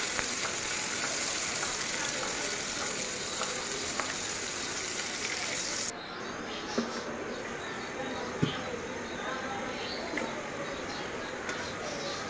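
Potatoes fry in a pan with pigeon meat for a Bengali curry, giving a steady, even sizzle that hisses on without a break, softening a little partway through with small clicks and taps from cooking.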